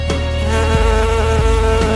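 Bees on the island of Hvar, Croatia, buzz loudly and close, a steady dense drone with individual insects swooping past in short pitch-shifting passes.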